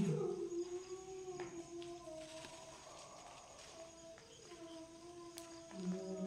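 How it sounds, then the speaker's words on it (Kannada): Several dogs howl far off in a forest at night, long wavering drawn-out cries overlapping and rising and falling, faint and distant over a quiet hiss. "ಎಲ್ಲೋ ದೂರದಲ್ಲಿ ನಾಯಿಗಳು ಬೋಗ್ತಾ ಇದ್ದಾವೆ ಬ್ರೋ."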